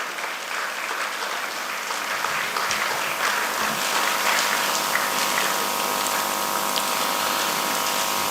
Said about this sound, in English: An applause of appreciation will make it more the way memorable.